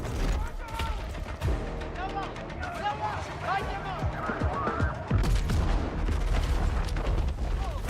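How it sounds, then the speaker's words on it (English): Gunfire and explosions from a Battlefield 6 multiplayer trailer rumble and crack densely throughout, with booming blasts and rapid shots mixed with music and effects at steady loudness. "Yeah, I really like the explosions and destruction."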